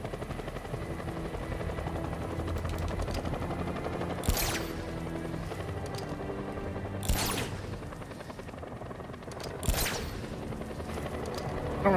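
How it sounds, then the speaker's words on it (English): Continuous helicopter rotor drone in Batman: Arkham Knight dominates throughout, with three sharp bursts like gunfire or impacts cutting in, loud and steady, game-like in character. "Let me just grab onto that helicopter."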